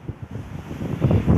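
Wind blows steadily by the ocean in Hawaii, a soft low rush that builds toward the end, with a faint surf-like wash beneath it.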